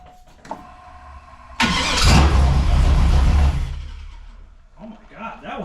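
A homebuilt 383 V8 cranks briefly and then bursts into a loud, roaring start and revs inside a garage, dropping back to a rough idle after a couple of seconds while a voice speaks.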